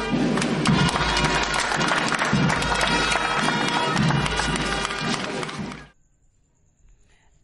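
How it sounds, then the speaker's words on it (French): A crowd at a school inauguration ceremony breaks into loud, sustained applause with dense clapping, then it cuts off abruptly into near silence. "Allez, applaudissez-vous."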